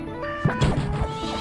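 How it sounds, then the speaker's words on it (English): Objects being smashed and bashed in the farming video game Fields of Mistria, a few sharp crunching impacts with clattering debris over a steady game music bed. "Smashing things. Bashing things."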